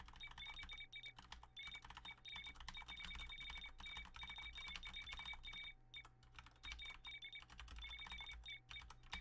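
Rapid, steady clicking of typing on a computer keyboard in the video game Californium, close and continuous, with a faint repeating electronic beep tone running alongside.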